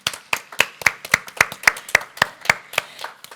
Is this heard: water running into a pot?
no